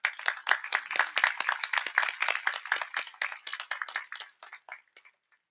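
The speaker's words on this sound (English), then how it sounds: "Now let's have a round of applause for the Avid program." Audience at an 8th grade promotion ceremony claps in a brisk, fairly close burst of many hands, strongest at first, then thinning to a few scattered claps that trail off into silence.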